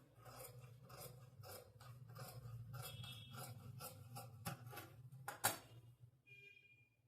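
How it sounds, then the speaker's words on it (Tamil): Scissors snip through blouse fabric along a marked line at a tailoring table, a run of steady, close rasping cuts with a brief sharper snip near the end and no talking. "இதை நான் கட் பண்ணி எடுத்துக்கிறேன்."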